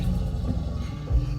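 A Rivian electric vehicle's Halloween exterior sound effect of an alligator, a low, rumbling growl that holds steady and swells near the end, played loud and close.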